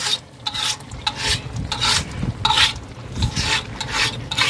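Large pot of chicken biryani masala, a 30 kg batch, being stirred with a ladle, giving steady scraping and rubbing strokes over a soft sizzle, loud and close, repeated in a rhythmic back-and-forth with no talk.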